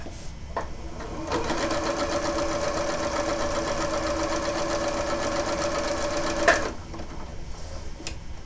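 A sewing machine stitching down hexagon quilt pieces runs in one steady whirring burst of about five seconds, with a rapid even needle rhythm, then stops with a small clunk; quiet handling noises before and after.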